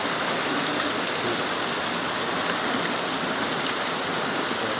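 Steady, dense hiss of rain falling continuously on a bonsai coconut palm, even and unbroken throughout, with no voices.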